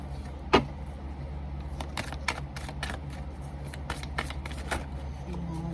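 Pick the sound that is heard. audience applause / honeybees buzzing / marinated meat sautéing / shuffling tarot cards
shuffling tarot cards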